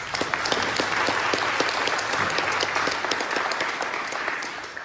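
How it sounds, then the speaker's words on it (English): A concert audience at a choral society charity concert applauds a musician, with steady, moderately distant clapping filling a hall throughout with individual claps distinct in the texture. "Please give him a round of applause."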